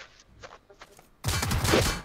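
Gunfire in the battle royale game PUBG: a few faint, distant shots first, then a sudden loud burst of rapid automatic fire that rattles on through the rest.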